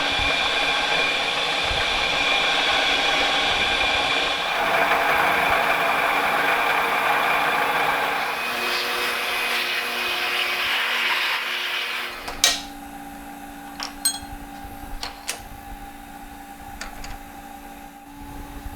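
A milling machine cuts metal under flood coolant, giving a steady, loud, rushing whir for about twelve seconds. It then drops to a quieter hum broken by a few faint clicks and taps.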